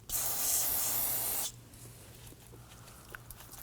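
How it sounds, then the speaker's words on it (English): A sharp hissing spray of aerosol brake-cleaning solvent bursts out for about a second and a half while servicing rear brake calipers on a Nissan Murano, then cuts off, leaving a quiet room with faint small clicks. "go ahead and spray it down with a spray solvent"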